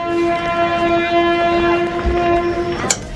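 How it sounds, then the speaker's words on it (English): A passenger train in foggy conditions sounds a long, steady horn tone that holds for nearly three seconds before cutting off, loud and fairly near, over a constant rumble of the rail cars. "Okay, the train is moving"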